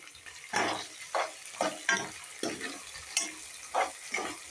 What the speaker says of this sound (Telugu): టమాటో, ఆలు వేసాను. ఇవి కూడా బాగా ఫ్రై అవ్వాలి ఆయిల్లో.